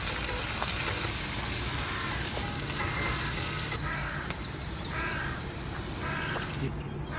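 Chopped onion and green chillies frying in a pan for dal tadka, a continuous close sizzle with crow caws breaking through from outside.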